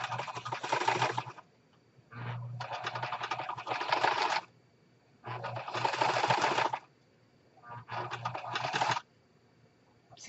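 A sewing machine stitches in four bursts of rapid mechanical whirring, each lasting a second or two and separated by short pauses. The sound is close and clear.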